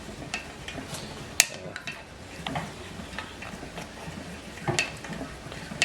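A metal spoon held upside down is pivoted rapidly in a vessel of Japanese knotweed wine to drive out gas, giving soft sloshing and stirring noise punctuated by sharp clinks against the container.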